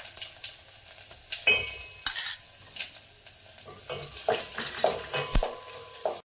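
Mustard seeds, cumin and garlic hit hot oil in a pan, crackling and sizzling up close, with bursts of spattering and a few metallic clinks of a spoon stirring against the pan.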